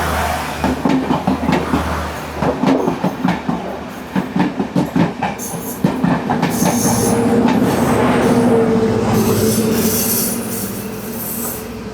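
Sri Lankan train in grey and blue livery running along the coastal line near the Indian Ocean, with loud rhythmic wheel clatter over rail joints and squealing wheels, steady and close throughout.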